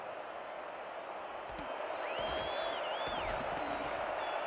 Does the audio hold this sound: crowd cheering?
yes